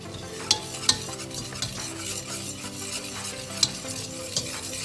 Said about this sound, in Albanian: Ne do të bëjmë skuqjen e miellit, tani skuqje të lehtë